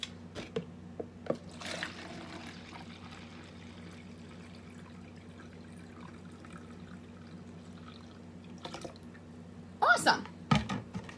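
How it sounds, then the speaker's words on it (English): Vinegar pours into a cup in soft trickling bursts, faint beneath a low hum, with a livelier splash of liquid near the end. "we're going to pour vinegar to the top."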